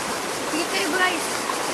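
River water flowing steadily, a continuous broadband rush close by with no distinct events.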